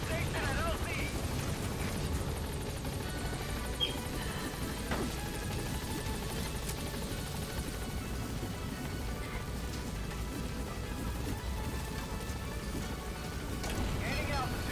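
A support helicopter in Metal Gear Solid V arriving at a landing zone, a steady droning rotor wash and engine rumble holding throughout at moderate level, with game radio voices and occasional talk over it.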